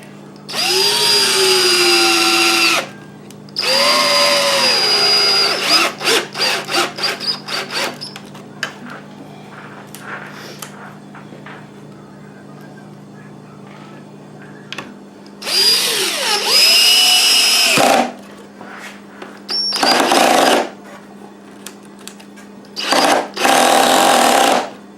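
A power driver whirs in repeated bursts, driving screws down into pocket holes in a reclaimed-door coffee bar build, with loud revving runs alternating with short stuttering pulses and brief gaps.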